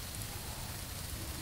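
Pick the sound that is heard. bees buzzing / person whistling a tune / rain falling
rain falling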